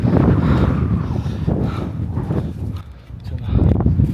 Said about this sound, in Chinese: 这个地方风很大啊